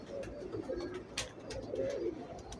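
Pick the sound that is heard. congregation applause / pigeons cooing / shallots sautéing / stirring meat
pigeons cooing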